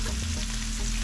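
Cabbage, chicken and bell pepper sizzle in a pan after a sprinkle of bouillon and complete seasoning, a steady close frying hiss with a low rumble, no voices.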